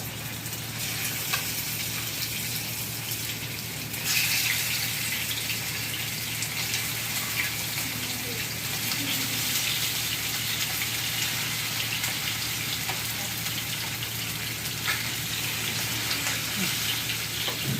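Mackerel frying in hot oil in a home kitchen gives a loud, steady sizzling hiss that runs unbroken from start to end, with no talking.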